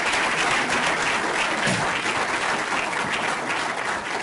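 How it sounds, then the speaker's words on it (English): An audience at a surgical quality forum applauds its panelists and speakers, a broad sustained wash of clapping heard at even loudness from start to finish. "all the panelists and all the speakers really deserve a round of applause"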